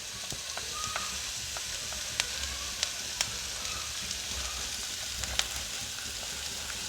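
Grated potato fries in a pan with onions for a vegetable omelette: a steady, close sizzle with scattered sharp pops and a few light stirring clicks, no talking.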